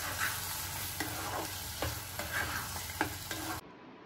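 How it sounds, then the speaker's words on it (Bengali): A spoon stirring and mixing prawn masala curry with chopped coriander in a pan: close, repeated scraping strokes over a soft sizzle, ending abruptly. "এবার ধনে পাতা কুচিটা জাস্ট ওপর থেকে ছড়িয়ে দিলাম, আর একবার ভালো করে এটাকে মিশিয়ে নেব।"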